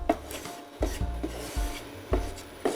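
Millet flour dry-roasting in a pan, stirred with scraping, rasping strokes at a steady rhythm of about one pass every half second, close and moderately loud with no talk.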